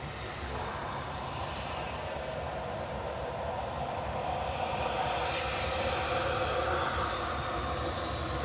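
An Airbus A320 family jet taxiing at Manchester Airport gives off a steady, fairly loud engine hum and whine that swells slightly toward the end, with no speech over it.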